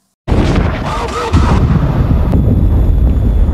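Heavy, loud gunfire and booming blasts from a firefight with the Taliban in Guy Ritchie's war film, a dense, continuous barrage, dramatic and close, with no clear pauses.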